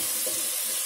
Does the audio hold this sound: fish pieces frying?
yes